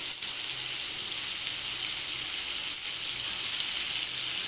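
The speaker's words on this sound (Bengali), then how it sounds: "এটা একটু ভাজা ভাজা হয়ে যাক" Vegetables, including ridge gourd, frying in oil in a pan, making a steady, loud, close sizzle that continues without a break and has no talk over it.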